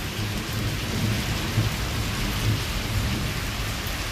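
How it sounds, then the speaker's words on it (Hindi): Heavy monsoon rain in Islamabad pours steadily in a dense, unbroken roar, with low rumbles of thunder rolling underneath; no voices. "बारिश की स्पीड"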